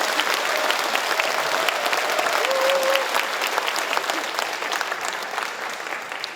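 Audience applause welcoming Governor Lee Cheol-woo at a Gyeongsangbuk-do town meeting in Seongju County, steady dense clapping from a large crowd sustained throughout, with a faint tone briefly running underneath.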